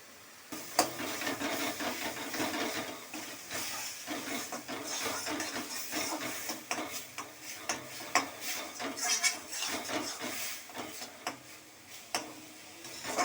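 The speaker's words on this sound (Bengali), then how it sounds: "এটা একটু কম আঁচ করে কষতে হবে।" Bottle gourd peel paste with turmeric fries in a pan over low heat, giving a faint hiss broken by frequent light ticks and scrapes of a spoon against the pan, with no talking.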